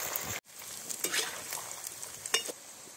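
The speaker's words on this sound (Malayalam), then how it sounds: "നമ്മുടെ എണ്ണയൊക്കെ നല്ല ചൂടായിട്ടുണ്ട്, നമുക്ക് നമ്മുടെ കായിട്ട് വറക്കാം കേട്ടോ അതിലോട്ട്" Plantain slices sizzle and crackle steadily in hot oil for a Kerala-style jaggery-coated banana chips dish, with a brief dropout and a few sharper pops near the end, close and fairly loud with no talking.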